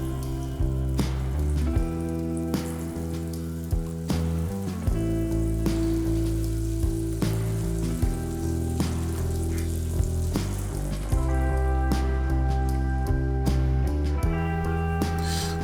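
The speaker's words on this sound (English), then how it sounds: "scramble the eggs to your liking" Eggs scrambling in a hot skillet that still holds the fat from a meat mixture, a steady close sizzle with soft periodic scrapes and taps of a utensil, over a music bed and with no talking.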